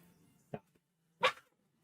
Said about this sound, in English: And then he barks.